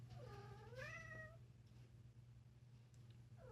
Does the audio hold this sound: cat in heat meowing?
yes